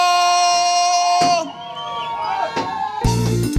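A concert crowd of hundreds to thousands in Kenya cheers and shouts for the Zamazuka Acrobats, a loud burst of whoops and cries that rises after music fades and swells again near the end.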